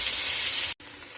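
Pointed gourd (potol) frying in oil gives a steady bright sizzling hiss, broken by a brief gap before the sizzle resumes slightly softer.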